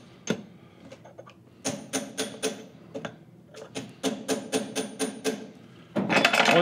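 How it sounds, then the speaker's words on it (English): A hammer drives a drift to tap the nut on a Link-Belt 22600 series solid housed mounted roller bearing, giving sharp metallic taps in quick rhythmic runs with short pauses between. "I'm just going to use the hammer and a drift"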